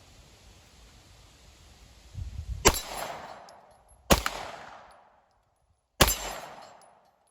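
Springfield Echelon pistol fired three times, sharp loud cracks spaced over a few seconds, each trailing off in a short echoing decay, preceded by faint handling rustle and no talking.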